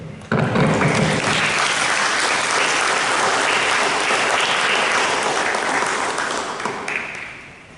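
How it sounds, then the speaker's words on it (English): An audience at a school board meeting breaks into loud, sustained applause for a student coming forward to receive a certificate, the clapping swelling quickly, holding steady, then tapering off toward the end. "let's give her a round of applause for her hard work as she comes forward to receive"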